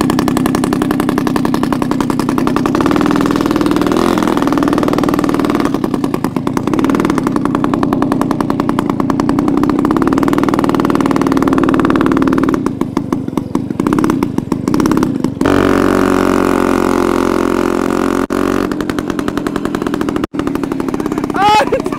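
A homemade boardtracker-style moped engine runs loudly and continuously, its buzzing putter rising and falling with throttle, while several people talk and shout nearby outdoors.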